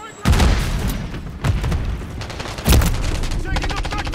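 Call of Duty Modern Warfare 3 multiplayer gunfire, loud near shots and booming bursts with rapid automatic fire between them, some brief and some sustained, while voices call out over the fighting.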